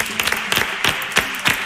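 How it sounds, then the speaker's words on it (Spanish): Brief burst of audience applause for a flamenco performance with violin and guitar on a Spanish talent show, a few uneven claps rising in loose clusters, close and fairly loud. "Un fuerte aplauso para los tres."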